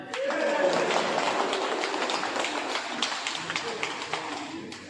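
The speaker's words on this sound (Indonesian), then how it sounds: "Karena itu tepuk tangan untuk Martin Tebai dulu." Crowd applause at a village heads' inauguration ceremony in Dogiyai Regency, a steady patter of many hands clapping for several seconds with voices mixed in, tapering off at the end.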